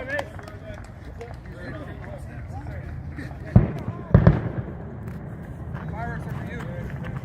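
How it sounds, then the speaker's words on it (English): Fireworks bang at an outdoor baseball game, two or three sharp pops in quick succession cutting through steady crowd chatter and players calling out across the field. "Fireworks are for you."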